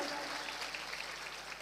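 Audience clapping at a Hindi poetry gathering (kavi sammelan) in Phalawda, Meerut, a faint, steady wash of many hands with no clear individual claps, heard from a distance.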